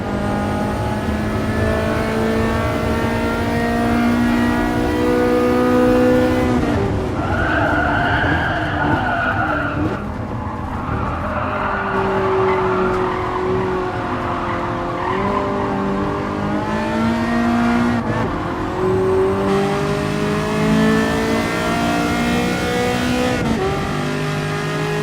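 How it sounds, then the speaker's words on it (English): A Ferrari F40 engine in Gran Turismo Sport roaring and revving continuously, pitch climbing and dropping through gear shifts, with tire squeal and skidding layered in, loud and close. "Let's just listen to the engine."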